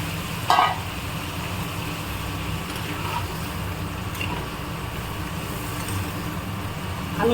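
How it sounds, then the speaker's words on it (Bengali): Chicken curry masala with potatoes fries in a pan, producing a continuous, moderate sizzle and bubbling hiss, with a brief utensil clank near the start. "এখন আমি পুরোটা ভেজে দেবো"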